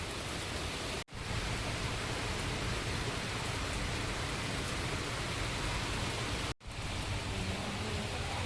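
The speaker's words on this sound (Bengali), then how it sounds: "বলছি দেখতে দেখতে জোরে চলে আসলো বৃষ্টি" Heavy rain pours down steadily, a loud, dense, unbroken hiss of falling water, briefly cut off twice.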